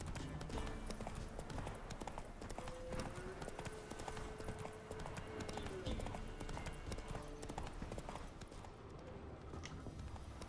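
Roach, the horse in The Witcher 3 video game, gallops with a steady, rapid clip-clop of hooves that runs through the whole stretch over a dense game soundscape.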